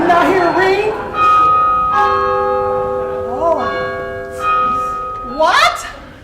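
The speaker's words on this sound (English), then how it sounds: "the clock strikes 1" A clock bell strikes once in a stage performance, a clear ringing tone that sustains and slowly fades, with actors' voices speaking over the start and end of the ring.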